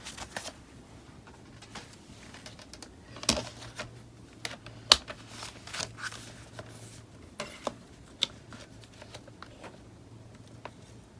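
Paper being cut for a beginner junk journal, with a series of soft, irregular snips and rustles at close range and a faint background hum.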